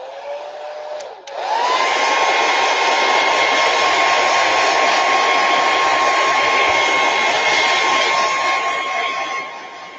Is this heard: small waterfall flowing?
no